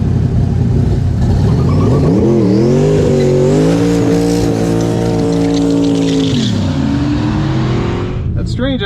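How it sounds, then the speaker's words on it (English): A car doing a burnout at a drag strip on a busy night, loud nearby engine revving up and holding high with squealing tires, then easing down near the end. "Everyone's doing burnouts when they're not supposed to."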